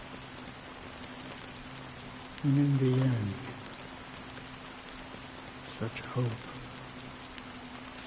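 Steady, soft rain hisses throughout a rainy scene in the Honkai: Star Rail video game, while a voice speaks briefly over it.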